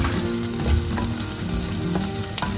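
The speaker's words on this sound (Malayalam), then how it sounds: "ഫ്രൈ ആയിക്കൊണ്ടിരിക്കുകയാണ്. കുറച്ച് നേരം കൂടെ ഒന്ന് ഫ്രൈ ആവും." Paneer fries in a pan with a steady, close sizzle and faint crackles throughout, with no voices.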